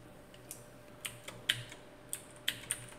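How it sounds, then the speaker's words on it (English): Keys clack on a clicky mechanical keyboard in a series of sharp, irregular strikes with short pauses between them, close and distinct over a quiet background hum. "You need a good mechanical keyboard."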